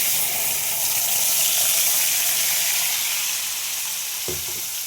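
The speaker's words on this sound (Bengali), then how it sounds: "কালো জিরে দিয়ে দিলাম দেখো যে পেস্টটা তৈরি করলাম সেই পেস্টটা আমি" Spice paste with black cumin added to hot oil in a pan after frying fish, producing a continuous loud sizzle throughout with a brief low knock near the end.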